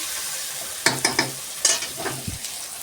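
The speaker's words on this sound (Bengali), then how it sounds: "দেখুন ভালো করে কষছি।" Chicken curry being sautéed in a pan, a utensil scraping and stirring in several quick strokes over a low sizzle, close and fairly loud, with no talking.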